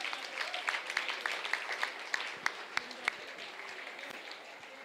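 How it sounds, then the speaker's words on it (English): An audience claps for children's dance performances, the applause fairly faint and distant, with individual sharp claps standing out as it gradually thins. "The least we can do is give them a big round of applause."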